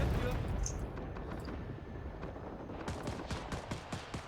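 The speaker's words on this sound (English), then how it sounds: "I stole a machine gun and I'm doing better with it than the original user" Machine gun fire in the video game Rising Storm 2 crackles in dense bursts, with a rapid run of sharp, evenly spaced shots near the end over a constant rumbling battle backdrop.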